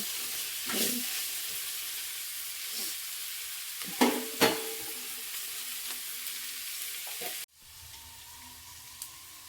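Food frying in hot oil in a home kitchen while being stirred: a steady sizzle with a few scraping stir strokes, then the sizzle drops away abruptly near the end.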